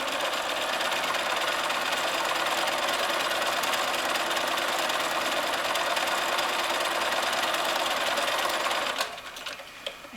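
A sewing machine stitches a landscape quilt with a fast, steady, close mechanical whirr that runs for about nine seconds and then stops.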